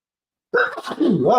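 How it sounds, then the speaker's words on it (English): A single loud, close sneeze bursts out after half a second of silence during a live show recording, trailing into a breathy, voiced exhale. "Note for the editor, obviously we'll edit that sneeze out."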